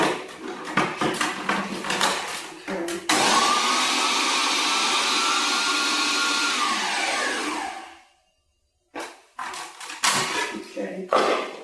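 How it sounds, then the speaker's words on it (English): A food processor whizzes cut-up scallions for a few seconds, a loud steady blended whir that runs about five seconds and cuts off abruptly, with clattering kitchen handling before and after. "toss all of these cut up scallions into the food processor, whiz them for a few seconds"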